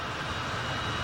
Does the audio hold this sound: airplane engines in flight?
yes